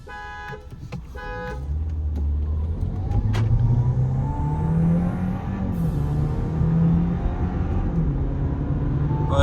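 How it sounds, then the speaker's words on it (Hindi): Mahindra XUV700 and Audi A4 in a full-throttle drag race: a steady, loud engine roar climbs in pitch as the cars accelerate, with a brief horn-like tone near the start and no talk. "फुल पूरा फ्लोर ही किया हुआ है थ्रॉटल मैंने"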